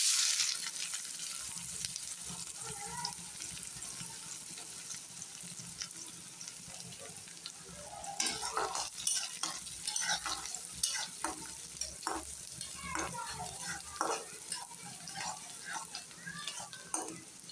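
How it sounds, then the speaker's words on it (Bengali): Onions fry in hot oil with a steady, broad sizzle, while a utensil scrapes and stirs intermittently, growing busier and louder halfway through. "তেলও গরম হয়ে গেছে এখন দেব পেঁয়াজ"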